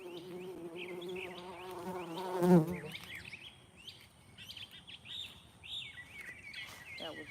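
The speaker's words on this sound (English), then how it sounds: "That was definitely a bee." A bee buzzes outdoors in a home garden salad bed during a harvest, its drone swelling close to the microphone around the middle before fading, with faint bird chirps in the background.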